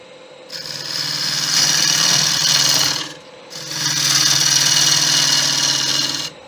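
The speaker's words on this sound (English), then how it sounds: "But even at that height, the gouge is cutting lovely" A Crown Crio gouge cuts a wooden bowl spinning on a lathe, two sustained loud passes of rasping, humming cutting noise, separated by a brief pause, close up.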